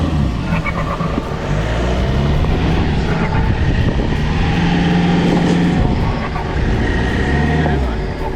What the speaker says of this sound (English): Yeah, the turbo sounds good.